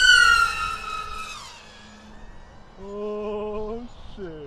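The motors of a 12S miniquad on 7-inch props whine loudly and close, first descending in pitch, then dipping, then rising again to strong tonal howls as the throttle is pushed to full.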